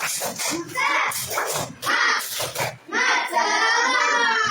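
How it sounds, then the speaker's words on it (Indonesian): Children in a classroom clap a rhythmic spirit clap in short patterned bursts, loud and close, with young voices chanting and talking between and over the claps. "Guru mau lihat bahasa tepuk semangat."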